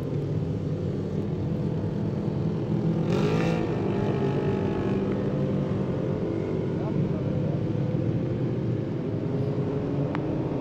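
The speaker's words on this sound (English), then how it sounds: "Pace truck bringing them around this beautiful facility here in Crandon, Wisconsin" Pace truck leading a field of off-road race trucks around the track at Crandon, Wisconsin: a continuous low engine rumble and drone at moderate distance, with one brief louder burst partway through and a commentator talking over it.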